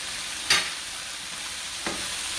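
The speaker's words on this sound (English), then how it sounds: "And just give it a stir." Crab noodle soup base stirred in a pot over a steady sizzling hiss, with one sharp utensil scrape against the pot and a second, softer knock later.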